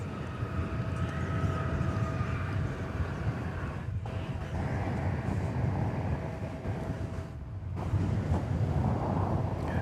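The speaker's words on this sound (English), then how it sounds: "This is an Airbus A321." An American Airlines Airbus A321 bound for Los Angeles roars at DFW Airport in Texas at night, a loud, steady jet-engine rumble with a thin whining tone riding on top and brief dips in intensity.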